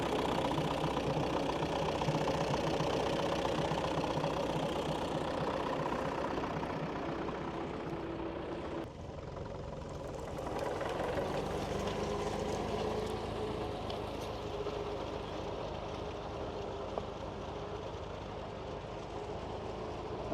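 Vintage Fordson tractor engine running steadily at a ploughing match, a continuous mid-pitched rumble with knocking texture, close and loud throughout with a brief dip midway.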